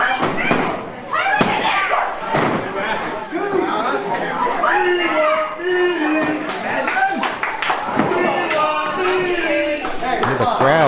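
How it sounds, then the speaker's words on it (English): A wrestling crowd cheers and chatters for a tag team at a live show, with loud body slams and thuds on the ring mat and a commentator talking over the noise. "The crowd trying to get behind Meaty and Fish."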